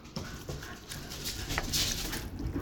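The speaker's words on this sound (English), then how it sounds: "the puppies are playing." Puppies play and run through a house, with patters, scuffles and small yips or whimpers in a busy, mid-distance mix that rises toward the end.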